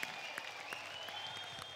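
A television studio audience at a comedy talent show applauds in a steady, fairly faint wash of clapping with no talk over it.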